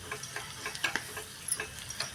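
A Maharashtrian spice tempering for a radish dish sizzles in a pan. Faint, sparse crackles and soft stirring taps sound close by, with no talk.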